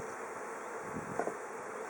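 Honey bees buzz steadily around a hive holding new brood and nurse bees, a dense, even hum with a couple of brief closer passes.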